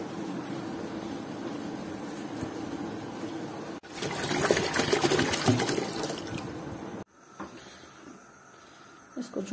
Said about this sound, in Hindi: ये यहाँ तक पानी डालेंगे